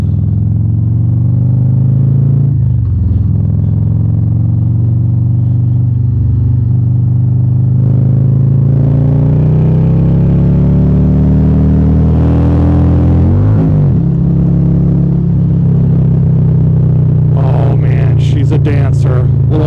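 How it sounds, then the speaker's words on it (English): A 2024 Harley-Davidson Road Glide with a Screamin Eagle Pro Street Tune rumbles loudly and steadily through its exhaust while riding, its pitch rising and falling with throttle, under a rider talking throughout. "this exhaust is loud."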